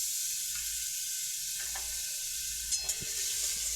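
Onions frying in a pan with a spoonful of ginger garlic paste, a steady soft sizzle with a few faint clinks and stirring scrapes, no talking.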